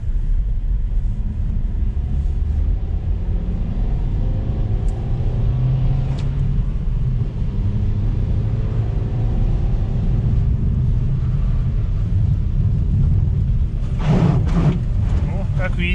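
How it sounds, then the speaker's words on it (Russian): Steady low engine rumble from a 2020 LADA Vesta SW Cross with a robotic AMT gearbox as it accelerates, heard from inside the cabin, a continuous drone with subtle shifts and a brief rustle near the end. "вот моя рука вам покажет моменты переключения безошибочно. Так, все, поехали."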